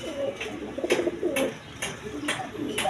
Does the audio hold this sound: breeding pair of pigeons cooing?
yes